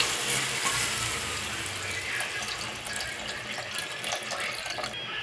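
Tamarind water pours and splashes steadily into a pan of fish curry, a continuous watery rush with faint sizzling underneath.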